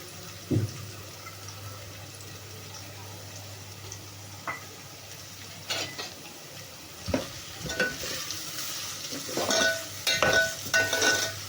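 Onion and green chili fry in a pan with a low steady sizzle, broken by scraping stirs and a few clacks of the spoon against the pan that come thicker toward the end.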